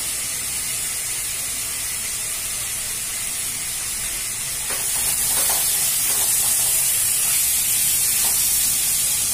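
A pan on low gas hisses steadily with ginger-garlic-chilli paste and turmeric, the loud broadband sizzle continuous and swelling a little midway, with no voices.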